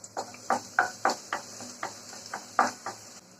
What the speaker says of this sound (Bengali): পাত্রে তেল গরম করে নিয়েছি খুবই সামান্য পরিমাণ পেঁয়াজ কুচি